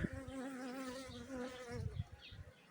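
Honeybees buzzing close by in a steady, droning hum that continues without a break, then thins out near the end among soft rustling.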